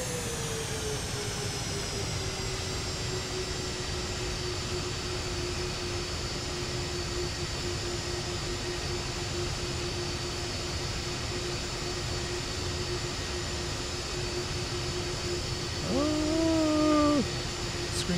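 A Boeing 737 in a flight simulator game sounds as a steady whining jet engine drone with a sustained tone throughout, joined near the end by a short rising electronic chime.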